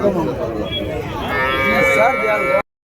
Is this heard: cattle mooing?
yes